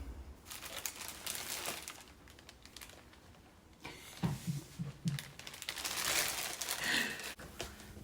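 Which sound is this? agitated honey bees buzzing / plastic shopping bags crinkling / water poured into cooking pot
plastic shopping bags crinkling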